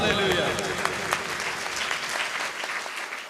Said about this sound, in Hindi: भाई खुश हैं तो तालियां बजा दें जोर से